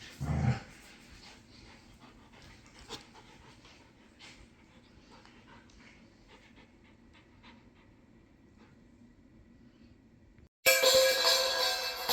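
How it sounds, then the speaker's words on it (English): Panting of a young dog, a puppy, fairly close and continuing steadily for about ten seconds with faint whimpers, ending in a sudden loud burst of broadband noise. "Happy puppy."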